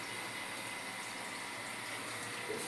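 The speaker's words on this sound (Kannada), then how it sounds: "ಅಷ್ಟೊತ್ತಿಗೆ ನೀರು ಬಂದ್ಬಿಟ್ಟು ರೀ." Water running steadily from a household supply tap, a constant gushing rush with little variation, fairly faint and unbroken, no voices.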